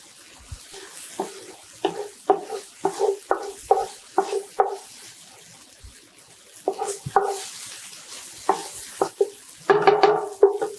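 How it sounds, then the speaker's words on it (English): Onions cooking in a pan for a sesame chicken and vegetable stir fry, heard as rhythmic bursts of sizzling and stirring that come in quick clusters, with a pause in the middle and a busier flurry at the end. "All right, so my onions have been cooking for a couple minutes."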